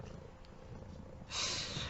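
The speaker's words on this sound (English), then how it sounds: "I'm gonna pet me some cats" A cat purrs softly and steadily at close range while being petted, a low rumbling drone that grows slightly louder and fuller toward the end.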